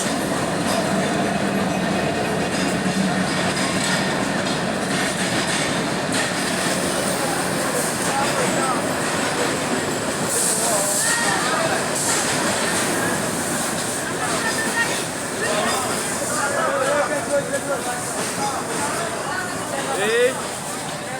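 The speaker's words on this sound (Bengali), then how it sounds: "স্টেশন প্রবেশ করলো লোকোমোটিভ 3019।" Locomotive 3019 hauling the Down 711 Upokul Express rolls into Chowmuhani railway station in Bangladesh, a steady loud rumble of wheels and railcars with occasional squeals near the end, while a voice talks over it.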